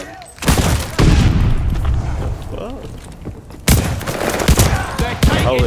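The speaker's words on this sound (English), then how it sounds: "Oh, that's a shotgun." Shotgun blasts and other gunfire in the Call of Duty Vanguard shooter, with sharp booming shots coming at irregular intervals and heavier bursts near the end, mixed with someone talking over the action.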